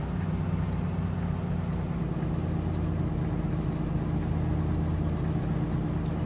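In a trucking video game, the heavy engine of a truck hauling 26 tons drones steadily and loudly at fairly high revs, a constant low humming rumble with no pauses.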